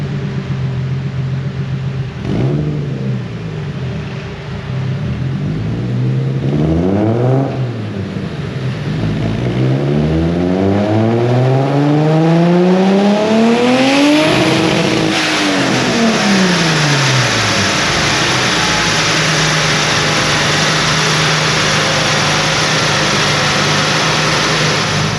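Boosted Honda B18 engine running on a dyno, revving hard through rising and falling sweeps with a loud climb to a peak near the middle, then dropping back to a steady idle; no talking.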